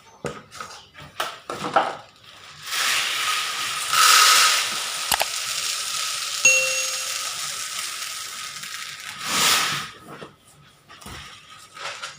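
Year-old mung bean seeds are poured out, giving a steady grainy rushing hiss that lasts several seconds, with scattered clicks and a brief rattle at the start and the end.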